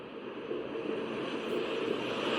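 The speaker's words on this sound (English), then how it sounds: "Things like waves." Ocean waves play from an Ewan Deluxe rechargeable sleep aid, a soft, steady whooshing wash of surf-like noise at low volume with no talk.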